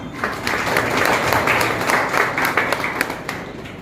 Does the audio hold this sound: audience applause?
yes